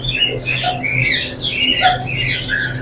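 Albino shaft-tail finches in a bird shop give rapid high squawks and chirps that overlap in a busy, close chorus.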